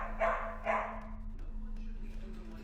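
A dog barks twice in quick succession, fairly faint and distant over a steady electrical hum and background noise.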